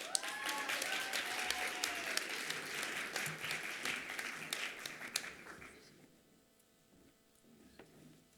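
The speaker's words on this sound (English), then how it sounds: "Let's give him another round of applause." An audience at a college top achievers awards ceremony applauds an award winner. Steady, full clapping from a large crowd carries for about six seconds, then fades away into quiet room sound.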